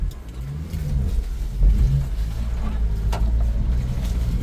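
Subaru Sambar crane truck in four-wheel drive on a dip, its small engine droning steadily nearby with a couple of rising revs as the wheels spin, no talking over it.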